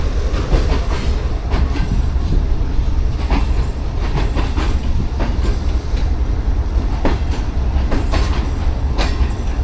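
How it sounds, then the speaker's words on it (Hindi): The 28 Down Shalimar Express, led by a ZCU30 locomotive near Khanewal Junction, rolls past close and loud with a continuous rumble and rhythmic clickety-clack of wheels over rail joints and faint squeals, with no voices. "ZCU30 लीड कर रहा है 28 डाउन शालीमार एक्सप्रेस"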